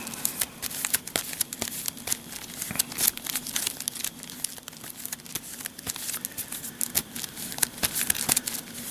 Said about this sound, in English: shuffle time is here again.